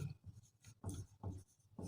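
Numbers are written on a board during a maths lesson, heard as quiet rhythmic strokes that come in four or five short bursts, each a brief scratchy scrape separated by small pauses, with no talking.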